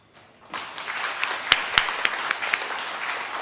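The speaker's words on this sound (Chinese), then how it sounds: "我们鼓掌" A congregation at a Taiwanese-language church service breaks into applause, starting abruptly after a brief hush and continuing as dense, moderately loud clapping with a few sharper claps standing out.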